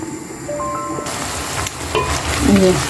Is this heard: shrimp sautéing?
yes